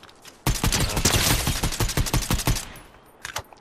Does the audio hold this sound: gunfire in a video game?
yes